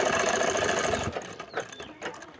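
A sewing machine stitches with a fast, steady mechanical whir for about a second, then slows into a few scattered clicks and stops, heard close up.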